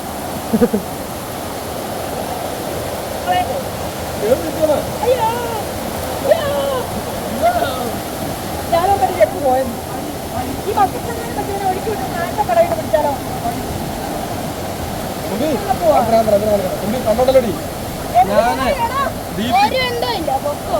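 A waterfall rushes continuously in the background, a steady broad roar that runs alone throughout, without voices, and now and then catches brief splashy flutters over the constant flow.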